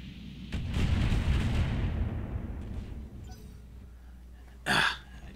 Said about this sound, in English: Man, my auto cannons just keep missing him.